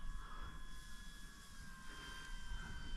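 A Viper Jet 70mm RC model jet flies slowly at high angle of attack, its steady ducted-fan whine holding at an even level with a constant tone throughout, distant and continuous with no voices.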